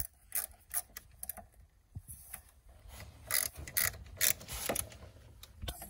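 Ratchet tightening the bolts on a Toyota Camry mass airflow sensor, heard up close as quick bursts of clicking pawl ratcheting mixed with small metallic clinks and handling noise.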